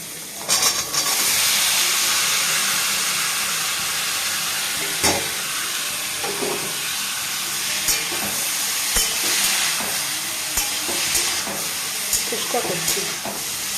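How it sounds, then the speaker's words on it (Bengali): Curry fries in a small amount of oil in a kadai with a loud, continuous sizzle and hiss, marked by occasional sharp scraping and stirring knocks. "পুরো একদম লাইট তেল দিয়ে ভাজছি"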